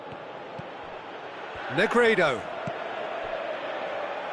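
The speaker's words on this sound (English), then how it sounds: "you can hear how the crowd are reacting to this too" A football stadium crowd sends up a brief, swelling roar of reaction that fades again within a second, heard under a commentator's voice over a steady background murmur.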